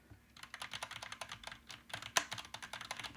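Fast typing on a cheap $20 gaming keyboard, a close, quiet run of crisp, uneven key clicks with one sharper louder clack partway through.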